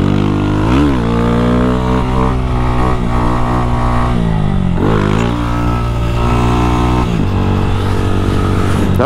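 A Start 190 motorcycle engine revs loudly and up close. Repeated throttle blips rise and fall in pitch over a steady, throbbing idle.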